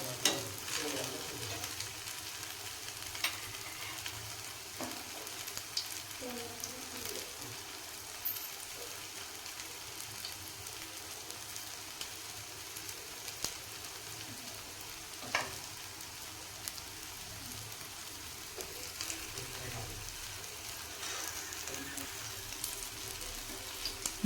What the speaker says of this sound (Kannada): ಈಗ ಇದು ಸ್ವಲ್ಪ ಬೇಯಲಿ, ಒಳಗಡೆ ಎಲ್ಲ ಫ್ರೈ ಆಗಲಿ ಚೆನ್ನಾಗಿ